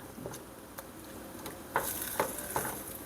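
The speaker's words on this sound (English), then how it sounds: "I'm going to let this come to a boil" Beef and peppers cooking in a pot as it comes to a boil, a soft low sizzle with a few light clicks and gentle stirring taps, quiet and close.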